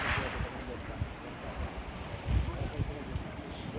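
A ferry sails at sea between Crete and Kythera, passing Antikythera, with a steady wash of wind and water rushing around the hull and occasional low thumps, a voice faintly present under the noise.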